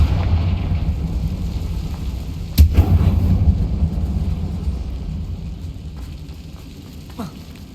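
A Confringo fire-blast spell cast in Hogwarts Legacy bursts as one sudden explosive crack that quickly fades, heard against a constant low rumbling game backdrop inside an abandoned mine.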